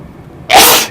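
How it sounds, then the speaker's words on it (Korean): A single loud, sharp human sneeze bursts out close to the microphone after a quiet moment, a harsh, breathy blast that cuts off abruptly, heard from a horse racing broadcast commentator. "아, 재채기가 나오네요."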